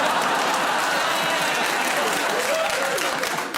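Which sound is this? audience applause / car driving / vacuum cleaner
audience applause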